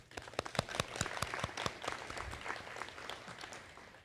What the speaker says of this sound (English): I'd like to give another round of applause to my instructors, the PHSC faculty,